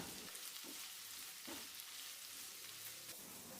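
Three medium sliced onions sizzle in coconut oil in a pan over low to medium flame, a steady, soft frying hiss with faint stirring scrapes and no voices.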